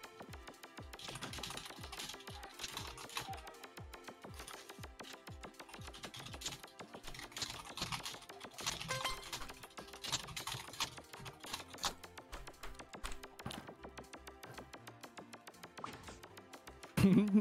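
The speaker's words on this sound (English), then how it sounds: "I hear all the keyboard sounds." Computer keyboard typing clatters in quick irregular bursts of keystrokes, moderately close, continuing steadily with brief pauses and a louder thump at the very end.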